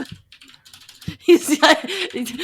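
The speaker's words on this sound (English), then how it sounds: "keyboard just started furiously clacking" Computer keyboard typed on furiously, quick clacking keystrokes in a short burst, with voices talking over it.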